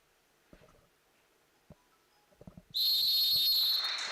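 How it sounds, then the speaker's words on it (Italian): A referee's whistle sounds at a futsal match between Arzignano and Atletico Bassano, marking a minute of silence: one loud, sustained shrill blast that begins partway through, after a few soft scattered thumps in a quiet hall. "Il fischio del signor Causillo, un minuto di silenzio prima di questa gara"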